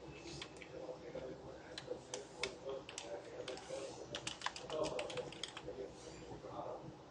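Keys clacking on a computer keyboard as PHP code is typed, a steady stream of quick, light taps at moderate distance, continuing throughout with faint room hiss and a voice talking lightly in the background.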